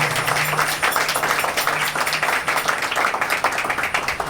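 Audience applause at a devotional bhajan evening honoring the tabla player, a steady dense wash of many hands clapping throughout, moderately loud and continuous, with a faint sustained instrument tone underneath.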